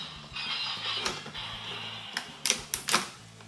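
Plastic parts of a Super Sentai King-Ohger toy weapon clack and click as it folds into gun mode, with light creaks early on and several sharp, close snaps near the end.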